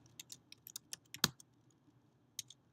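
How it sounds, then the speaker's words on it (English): Typing on a computer keyboard, a run of quick, uneven key clicks with a louder cluster near the middle, then a pause and a final pair of taps, close and clear over a quiet background. "I'm going to type in my name"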